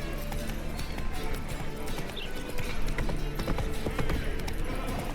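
Galloping horse hooves in The Witcher 3 drum a steady clip-clop rhythm throughout, close and fairly loud, with game ambience and some voice activity underneath.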